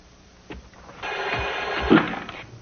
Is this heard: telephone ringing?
yes